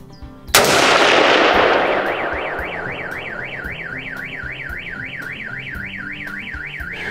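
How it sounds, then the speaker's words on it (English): A Sauer 303 rifle in 7x64 fires one loud, close shot that booms and rolls away in a long decaying echo, after which a car alarm wails steadily in the background. "I made first 2 shots, so one was higher than target, next one hit to the black area"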